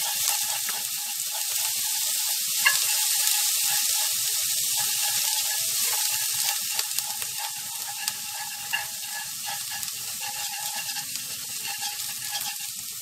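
Steady crackling and sizzling of minced leek and lemongrass frying in hot oil, with occasional light scraping, continuous and fairly close, no talking.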